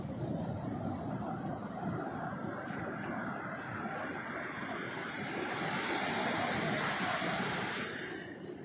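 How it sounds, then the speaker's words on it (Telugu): Sea waves surge ashore and straight into Kesavadasupalem village in Konaseema district, a loud, continuous roaring wash that swells slightly toward the end, with no voices. "ప్రతి కెరటం కూడా ఇటు డైరెక్ట్ ఊరి మీదకి వెళ్ళిపోతుంది"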